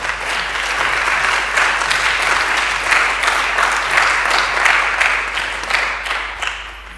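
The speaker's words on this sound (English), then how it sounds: "give yourselves a big round of applause for making the effort" A workshop audience in a room gives a steady round of applause, dense and sustained throughout, with a low hum underneath.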